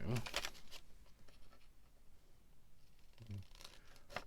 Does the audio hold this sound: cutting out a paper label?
yes